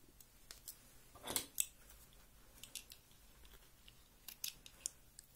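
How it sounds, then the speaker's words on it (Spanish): Scissors snip through sewing thread after a seam, one crisp double snip up close, then faint clicks and small handling sounds in a quiet room. "Cortamos el hilo"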